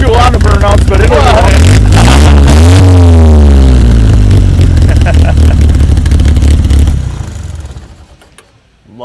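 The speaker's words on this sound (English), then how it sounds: "I don't do a lot of burnouts," A car doing a burnout at a Mississippi Mayhem car event roars loud and close, its engine revving in rising and falling sweeps with tire noise and clatter. The sound fades out near the end.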